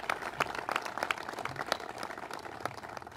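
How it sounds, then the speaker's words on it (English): An audience applauds Senator Dean Skelos at a governor's event on a new bridge. The clapping is moderate and steady, and it sounds a little distant. "Let's give him a round of applause, Senator Dean Skelos."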